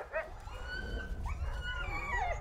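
Alaskan Husky sled dogs at a musher's kennel whimpering and whining in thin, wavering cries over a low rumbling background, fairly faint and close.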